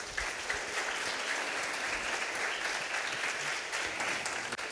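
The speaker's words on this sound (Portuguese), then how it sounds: "Vamos aplaudir o nome dele?" Church congregation applauding during a worship service, steady dense clapping from a crowd throughout, fairly distant and even in level.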